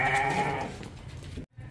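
A goat bleats loudly and close at a livestock market, a sustained wavering call that fades toward the end before a brief pause.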